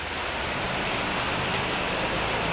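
A heavy downpour falls steadily and loudly outdoors, a dense unbroken hiss of rain with no gaps and no voices.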